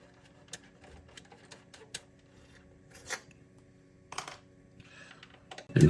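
A screwdriver with a T10 bit works long screws out of a faulty Xbox One console. Close, faint clicks and scratchy ticks come in a sparse irregular rhythm, with a louder clunk right at the end.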